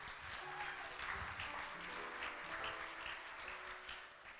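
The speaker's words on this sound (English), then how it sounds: "Round of applause, please." A Rotary Club audience gives a round of applause for a singer and accompanist, a steady crowd clapping at moderate distance with faint voices and tonal sounds underneath.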